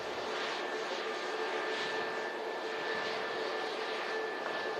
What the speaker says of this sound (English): Pegasus Airbus A321 Neo coming out.